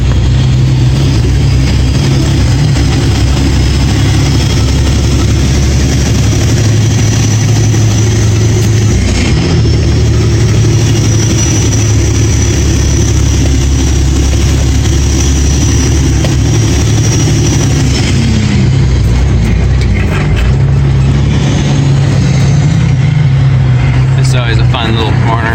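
A loaded tree truck hauling a trailer climbs a steep snowy hill. Its heavy diesel engine drones close and steady, with a low rumble that holds throughout.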